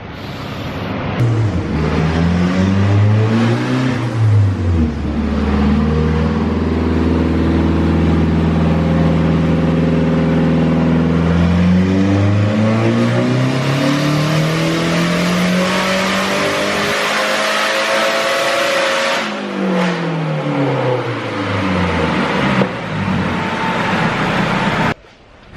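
Nissan 240sx engine on a dyno revving hard and loud, rising in pitch through long sustained pulls with a drop and climb between them, close and dominant throughout with no talking.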